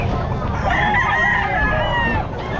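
A bull stag rooster crows at the Bocaue pet market, one sustained crow lasting most of the moment, near and loud over a busy market background.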